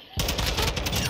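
Gunfire in the video game shooter Rank: Control bursts in after a brief quiet, a fast loud volley of close shots rattling for about a second.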